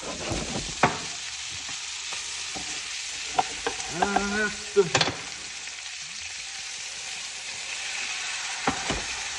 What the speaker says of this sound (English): Right there, I just deglazed the pan.